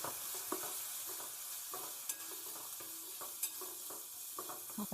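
Chole masala, garam masala and red chilli powder are stirred in a pan for chana masala: a steady low sizzle with sharp scraping taps of the spoon against the pan at irregular intervals, close and without any talk.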